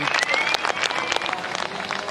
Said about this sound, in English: The crowd is loving it, turning out in force